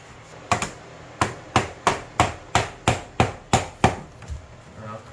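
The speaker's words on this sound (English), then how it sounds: "I'm going to tap it in with my tapping block and my hammer here" Sharp hammer taps on a tapping block drive vinyl plank flooring into place during a tiny house interior install, about ten close, evenly spaced knocks in a steady rhythm with no talk.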